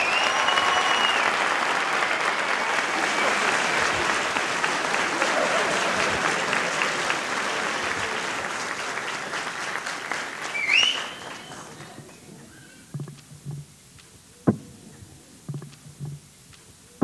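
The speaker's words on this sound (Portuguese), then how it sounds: "Uma salva de palmas!" Audience applause at a live stand-up show: loud, dense clapping fills roughly eleven seconds, then fades into near quiet broken by a few scattered thumps and stray claps.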